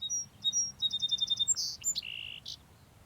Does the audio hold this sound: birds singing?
yes